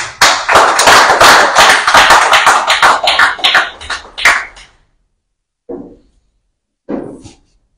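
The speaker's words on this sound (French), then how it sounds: "Recevez vos acclamations, s'il vous plaît." Crowd at an opposition political rally applauds loudly and densely for about four seconds, then the clapping thins out and stops, followed by two short isolated claps or thumps after silence.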